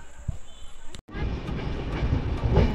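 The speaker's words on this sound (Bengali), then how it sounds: "নিজের নির্ধারিত সময়ের থেকে 26 মিনিট লেটে উত্তরবঙ্গ এক্সপ্রেস পৌঁছে গেছে এনজেপিতে" Uttarbanga Express train arriving at NJP station, a steady broadband rumble of running rolling stock with a brief dropout near the start, then continuous rattling noise close by.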